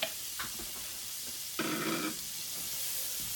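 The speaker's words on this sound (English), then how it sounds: "We're going to throw the shallots and the green onions in there." Shallots and green onions hit hot oil in a pan for pork chop gravy, giving a short burst of sizzling that rises suddenly and fades after about half a second amid quiet kitchen background.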